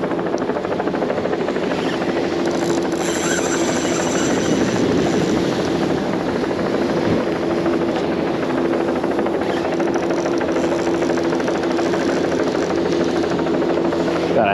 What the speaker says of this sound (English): Helicopter over me right now.